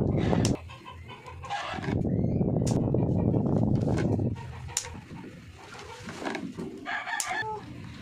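A rooster crows loudly and at length, with scattered clucks and bird calls around it, nearby and clear.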